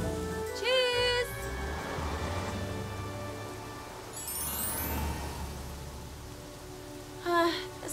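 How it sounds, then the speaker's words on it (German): Heavy cartoon rain hisses steadily as a soft, even wash, broken by bright whistling and chirping effects at the start and end, with no speech over it. "Es regnet so stark, ich kann kaum etwas sehen."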